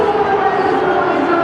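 A cricket stadium crowd of close to 120,000 at an India versus New Zealand final roars in a dense, steady wash of cheering that barely rises or falls over the short stretch.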